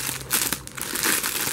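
Plastic packaging bag around a USB charger cable crinkling and rustling loudly up close as it is handled and opened, in dense irregular bursts.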